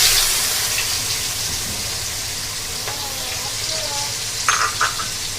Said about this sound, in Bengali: আমি এখন তেলের ভিতরে পেঁয়াজ কুচিগুলো দিয়ে দেব।